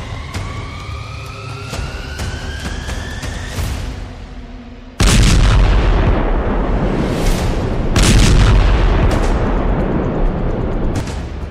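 Iranian missile strikes hit Israel: a wailing rising siren gives way to a sudden heavy roar of explosions and rumbling blasts, then a second burst, loud and chaotic with no speech.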